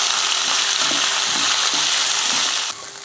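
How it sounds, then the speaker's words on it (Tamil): Carrots, garlic, onion, red chillies and curry leaves sautéing in hot oil: a loud, steady sizzle with soft rhythmic scraping of a spatula, close up, fading slightly at the very end. "சேர்த்து இதெல்லாம் நல்லா வதக்கி விட்டுறலாம்."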